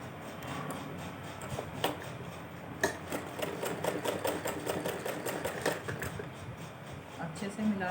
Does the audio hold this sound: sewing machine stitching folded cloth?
yes